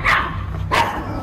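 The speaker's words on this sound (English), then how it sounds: "Is that a dog?" A puppy barks twice, close by, the short yaps separated by a brief gap, with outdoor walking-tour background noise in South Africa.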